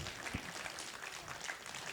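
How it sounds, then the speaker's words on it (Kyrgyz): Faint applause from a concert audience at a traditional Kyrgyz music performance, a steady wash of distant clapping across the whole stretch with no voices on top. "Кол чабуулар болсун"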